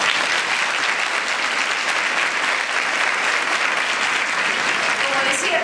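Sustained applause from the audience at a global gender equality forum in Chile, a thick continuous roar of many hands clapping at even loudness from start to finish.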